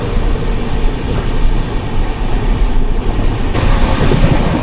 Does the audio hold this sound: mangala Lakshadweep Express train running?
yes